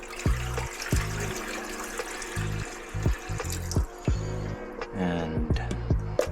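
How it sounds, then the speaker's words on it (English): Conditioned water poured from a juice container into a 2.5 gallon aquarium gurgles and splashes in uneven glugs, close up, with a low rhythmic hum running underneath. "So that's one full juice container of conditioned water."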